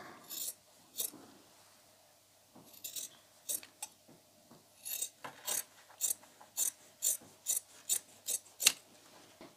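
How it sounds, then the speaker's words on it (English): Scissors snipping through craft material for DIY winter Christmas decorations, close and quiet, a run of crisp individual cuts that quicken into a steady rhythm of about a dozen snips. "Who else finds the sound of cutting, especially certain materials, really relaxing?"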